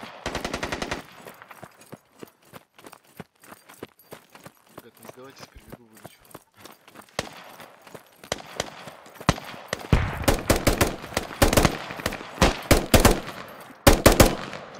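Gunfire in the video game Squad: sharp single shots and rapid automatic bursts crack near and far, growing denser and louder toward the end, with players talking over the shooting.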